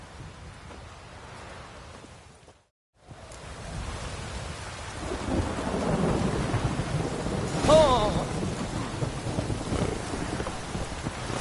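Steady rain pours down in The Witcher 3 video game, with a low rumble of thunder rolling underneath; a brief exclamation from a voice cuts in near the middle.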